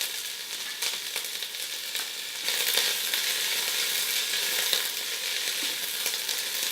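Diced onion and minced garlic stir frying in coconut oil for Japanese curry, a continuous bright sizzle that swells louder partway through as the pan is stirred, with no talking.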